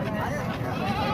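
A brief goat bleat rises from the busy Manawar goat market in Dhar district, Madhya Pradesh, blending into dense crowd chatter and nearby voices.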